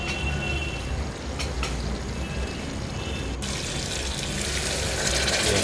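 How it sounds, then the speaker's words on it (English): Water pours steadily into a pot of pork curry, a continuous splashing rush that grows slightly louder toward the end, with no voices over it. "finally I have added water"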